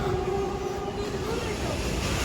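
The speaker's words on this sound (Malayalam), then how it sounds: "ഏതോ ട്രെയിൻ പോകുന്നുണ്ട് ഏതൊരു ട്രെയിൻ നല്ല ഫാസ്റ്റായിട്ട് പോകുന്നുണ്ട്" Fast train running through without stopping, heard as a steady continuous rumble with a sustained tonal whine, loud and close throughout.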